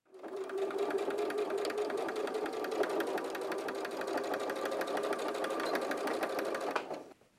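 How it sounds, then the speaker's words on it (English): A sewing machine runs steadily for about seven seconds, stitching fabric corners at a quarter-inch seam with a fast, even mechanical patter, close and alone. "go ahead and take that over to the sewing machine,"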